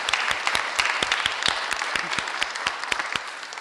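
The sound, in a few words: audience clapping at a public works meeting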